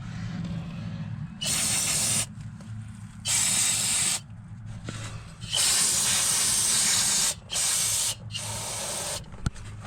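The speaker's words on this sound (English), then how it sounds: "Let's spray this down." An aerosol can sprays in several hissing bursts of varying length onto 1977 Cutlass rear drum brakes, separated by short pauses, close to the listener.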